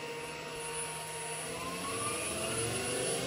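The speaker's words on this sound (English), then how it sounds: "The motor is quiet and running very smoothly." Electric motor of a motor-generator spinning up after throttle increase, a smooth, quiet steady hum with tones slowly rising in pitch, alone without talk.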